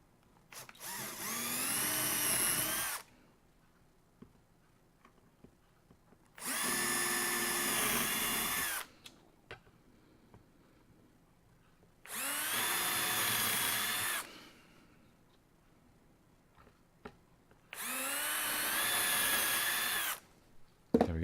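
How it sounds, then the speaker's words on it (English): A power drill bores four holes into wood for fitting a lazy susan, four evenly spaced whirring bursts of a few seconds each, separated by quiet pauses, close and loud. "And now I'm going to use this drill here and I'm going to drill in these 4 holes"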